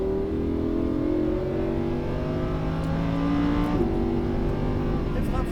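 A Lamborghini Huracan accelerates on a race track at Fay de Bretagne, its engine note climbing steadily in pitch with an audible gearshift partway through, heard from inside the car under a constant roar while people talk.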